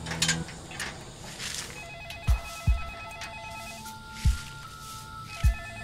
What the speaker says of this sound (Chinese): 妈，电话。